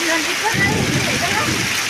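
Heavy monsoon downpour over a village in Kavant, falling as a dense, steady roar of rain that fills the whole stretch, with a voice faintly mixed in underneath.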